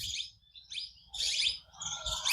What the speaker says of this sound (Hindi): देख पा रहे हैं चिड़ियाओं की गुनगुनाहट है।